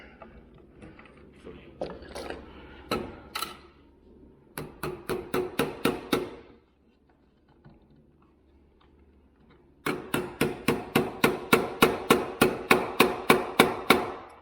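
A hammer drives a staple into wood to hold electrical cable in place. Sharp, evenly spaced close strikes come in two rapid bursts with a quiet pause between them, and softer taps and handling noise come before them.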